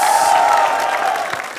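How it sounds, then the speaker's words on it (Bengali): A studio audience on a talk show applauds loudly, a dense, steady wash of clapping mixed with crowd cheering that fades slightly toward the end. "এটা হচ্ছে তালির আওয়াজ।"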